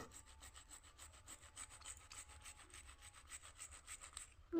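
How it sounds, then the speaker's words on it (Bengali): Onion, garlic and green chilli are rubbed against a hand grater, making quiet, rapid, rhythmic rasping strokes. Around twenty even scrapes follow one another at close range. "এই যে সব পেঁয়াজ রসুন কাঁচা লঙ্কা ঘষে নিলাম"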